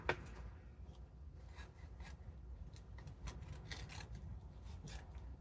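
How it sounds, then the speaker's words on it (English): Scissors trim a book cover for a junk journal, giving faint, close rasping cuts and rubbing in short irregular strokes against a quiet background. "clean it up a little bit with some scissors"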